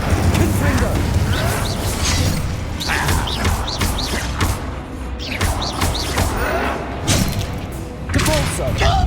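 Explosive Confringo spell impacts from Hogwarts Legacy land as repeated heavy booms and thuds among rumbling battle effects, while a voice speaks over the fight.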